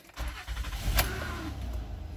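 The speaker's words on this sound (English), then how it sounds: "So now I'm gonna start the car." A Honda Odyssey minivan with low oil pressure and warning lights on starts up, a short starter crank followed by the engine catching and settling into a steady idle, close by.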